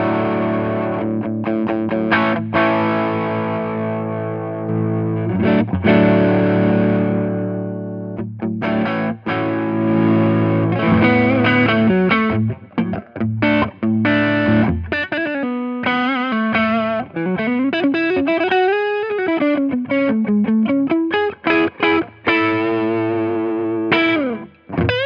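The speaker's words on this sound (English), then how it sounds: "That's now the Texas sound, which is really soft clipping, low gain, overdrive, distortion sort of stuff." Electric guitar through a low-gain, soft-clipping overdrive pedal (Strymon Sunset or Riverside) with mild, warm overdrive plays sustained chords then bending melodic lines, loud and upfront with no talk.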